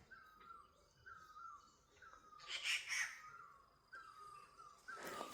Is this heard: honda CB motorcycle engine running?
no